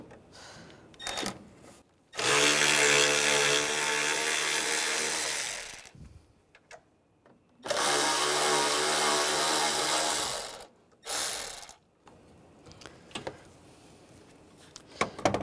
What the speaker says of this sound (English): We're gonna use a T25 socket. Take those screws out.